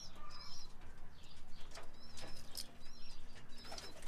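Young pigeons take flight from the top of a cage with bursts of flapping wings and a few chirps and coos, moderately close and fairly quiet.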